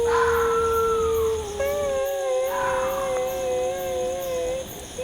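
A dog howls at night in a long, wavering, mournful tone with harmonic overtones, rising and falling and repeating across the stretch over a steady low background hum.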